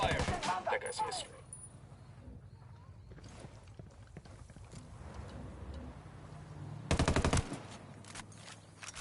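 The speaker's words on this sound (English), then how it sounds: "Opening fire" Automatic weapon fire in the tactical shooter game Ghost Recon Wildlands crackles in rapid bursts, with a loud opening volley, quieter scattered shots and a second heavy burst near the end, over low engine rumble and game voices.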